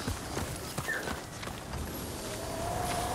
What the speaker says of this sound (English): Can I ride any random horse